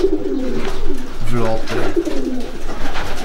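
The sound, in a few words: racing pigeons in loft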